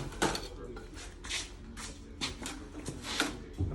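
Sheet metal for an HVAC return air pan clanks and rattles as it is worked in a bending machine, with a few sharp metallic knocks and scrapes at close range.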